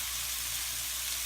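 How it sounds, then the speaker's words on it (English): Curried tofu scramble sizzles in a hot pan, giving off a steady, even hiss that runs unbroken through the short clip with no voices. "that is really starting to sizzle"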